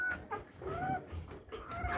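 Rooster of a free-range breed on a Brazilian ornamental chicken farm, clucking in several short, rising calls close by, with low farmyard rumble underneath and no talking.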